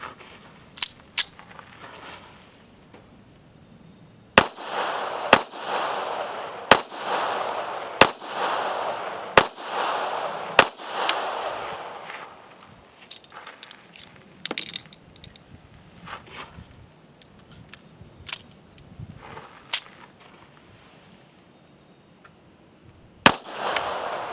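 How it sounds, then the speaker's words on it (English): A Kimber Micro Carry pistol fires reloaded ammunition: about a dozen sharp single shots at uneven intervals, each followed by a brief ringing decay, with quieter mechanical clicks and handling sounds between them. "So I have here Kimber Micro Carry. Now I'm going to run some of my reloads through it."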